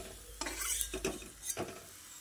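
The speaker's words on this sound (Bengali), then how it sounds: "বাদামগুলো দিয়ে অনবরত নেড়ে চেড়ে বাদামগুলোকে ভেজে একটা বাটিতে তুলে নিচ্ছি" Peanuts stir and fry in hot oil, giving a soft sizzle broken by a few scraping clinks of a spoon against the pan, close and fairly quiet.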